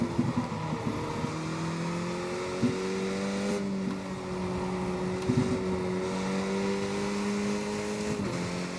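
A Skip Barber race car in the iRacing game holds a high gear, its engine a steady sustained drone with slow small pitch shifts, dipping briefly at gear changes and pushing on at moderate volume.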